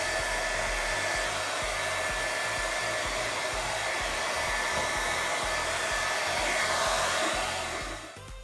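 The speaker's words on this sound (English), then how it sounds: "So get a hairdryer and dry it all out thoroughly." A hairdryer blows continuously while drying the body seams of a classic Mini Cooper Sportspack after rust removal, a loud steady whir that tapers off at the end.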